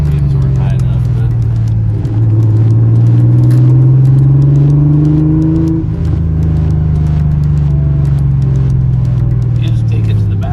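Porsche 911 Carrera Targa engine held at a steady, loud rev with a rising then falling pitch, a continuous near drone with a few brief blips, while people talk quietly over it.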